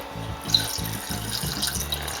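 Filtered water pours from a Brita water filter pitcher into a pot in a home kitchen, a close, steady gurgling stream with rhythmic glugging pulses as the water flows out.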